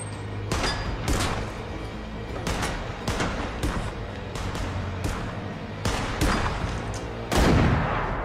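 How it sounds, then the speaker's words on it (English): Gunfire from an episode of The Last of Us TV series, with several sharp, loud shots spaced across the stretch and a heavy final blast over a constant background rumble. "Oh, what a shot by Joel"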